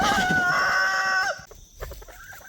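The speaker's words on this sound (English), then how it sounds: "Oh, Drew, why don't you honk at Dad?" Geese honk in loud, close, drawn-out nasal calls for just over a second, then fall to softer, scattered bursts with no voices.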